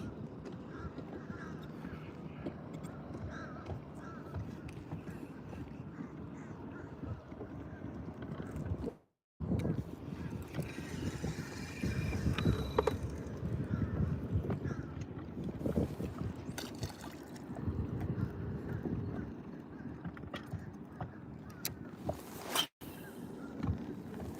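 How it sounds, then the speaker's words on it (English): Steady wind rushing and buffeting the microphone on a bass fishing boat, a continuous low roar with gusts that swell midway, heard alone without talk. "So the wind is starting to pick up a little bit."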